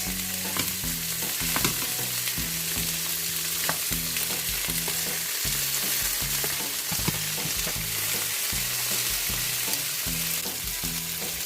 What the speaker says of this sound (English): Make sure guys that you sear up both sides of your meat.